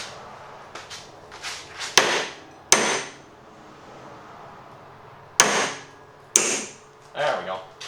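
A hammer drives Massey Ferguson three-point hitch parts onto round stock, several sharp metallic blows coming in irregular bursts with clanks and handling noises between them.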